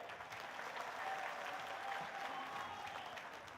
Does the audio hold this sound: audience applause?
yes